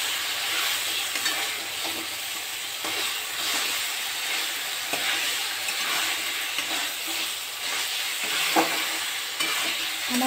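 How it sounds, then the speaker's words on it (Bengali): Chicken with spices being stir-fried in hot oil for Bengali kachu chicken, giving a steady broadband sizzle with repeated scraping stirs of a spatula running continuously and close throughout. "চিকেনটা ততক্ষণ কষবো যতক্ষণ না মশলার গন্ধটা যায়, ততক্ষণ পর্যন্ত কষতে হবে"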